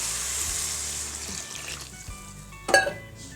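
Water is poured into a pan of sautéed tomatoes and vegetables for sambar, a hissing splash that fades from the frying sizzle, followed by a short clatter near the end.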